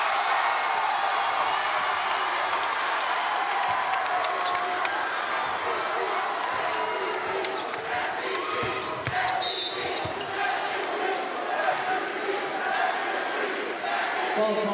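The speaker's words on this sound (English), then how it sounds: "Crowd is going crazy." A packed arena crowd roars and cheers through the closing moments of a men's college basketball game against Chicago State, a steady loud wash of noise with ball bounces and shoe squeaks, while an announcer talks over it.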